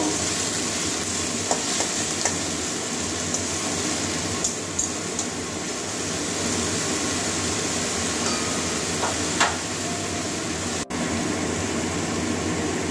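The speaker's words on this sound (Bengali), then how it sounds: "পেঁয়াজটা ভালো করে ভেজে নেবো, কাঁচা গন্ধ যাওয়া পর্যন্ত" Onions fry in a pan with a constant loud sizzle and occasional stirring scrapes, no speech over it.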